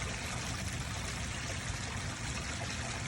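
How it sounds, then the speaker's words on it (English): An RV gray water tank drains through a hose as a steady, rushing flow of liquid, constant and close with no breaks and no talking. "You can hear that drain out."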